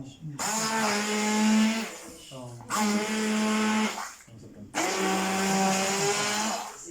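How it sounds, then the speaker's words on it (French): An electric mixer blends an onion mixture in three loud, close whirring runs separated by brief pauses, with a voice audible around them. "if you have a mixer, so you just mix all of them"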